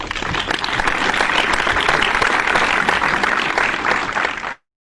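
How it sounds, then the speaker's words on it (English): A full room of people at a Toastmasters speech contest claps steadily in loud, dense applause that holds level and then cuts off abruptly. "Let us give a round of applause to these dedicated role players"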